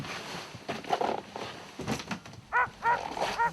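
Several sled dogs bark and yelp outdoors at a polar expedition camp, with repeated sharp barks clustered toward the end, some near and some farther off.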